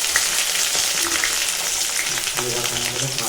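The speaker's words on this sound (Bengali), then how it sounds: "রসুনগুলোকে ভালোভাবে ভেজে নিচ্ছি।" Onion and garlic fry in a pan for a Bengali chicken curry, giving a dense, continuous close sizzle with a faint voice-like murmur toward the end.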